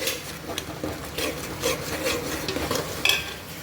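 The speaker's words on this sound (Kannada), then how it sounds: "ಹುಳಿನ ಸ್ವಲ್ಪ ಎಣ್ಣೆಲಿ ಆದಷ್ಟು ಫ್ರೈ ಮಾಡ್ಕೊಂಡು ಬೇಯಿಸ್ಕೋಬೇಕು" Tamarind frying in a little oil in a pan for fish sambar, with a steady low sizzle and scraping strokes of a spoon, one sharper clatter near the end, close and alone.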